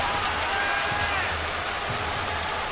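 Stadium crowd at Nagoya Dome applauding as slugger Kiyohara comes up to bat in a 2003 professional baseball game, a dense, steady wash of clapping and crowd noise filling the whole stretch without a break.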